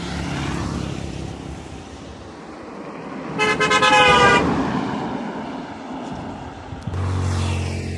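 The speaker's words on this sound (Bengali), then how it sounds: "গাড়ির অনেক শব্দ" Road traffic on a causeway through a wide wetland, with a loud vehicle horn blast in the middle and another toot at the end over a continuous rumble of passing cars.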